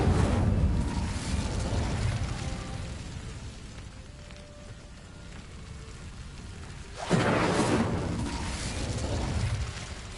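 An Incendio fire spell bursts in the Hogwarts Legacy video game, a loud roaring whoosh that swells, fades into a low rumble, then flares again in a second fiery blast, with no talking.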